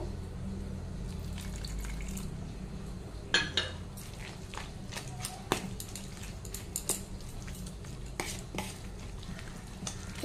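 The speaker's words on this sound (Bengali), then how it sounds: "তাই জন্য আমি আরেকটু জল অ্যাড করব" Semolina batter being stirred in a bowl as more water is added, a soft wet mixing hiss with scattered sharp clinks of a utensil against the bowl, moderately close and fairly quiet, with no talking.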